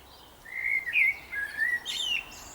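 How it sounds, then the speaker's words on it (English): A blackbird sings close by outdoors, a run of clear, fluting warbled phrases with short pauses between them, rising and falling in pitch over a quiet background. "Hello, Mr. Blackbird."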